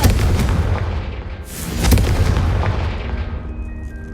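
A Confringo fire spell in Hogwarts Legacy detonates as a loud, booming explosion with a sharp crack, its rumbling roar filling the clip and slowly fading without any talk.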